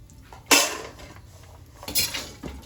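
A metal spoon scrapes and clatters against a pan as roasted dry fruits are scooped out, with one sharp clang followed by softer scraping and a second clatter, close and clear.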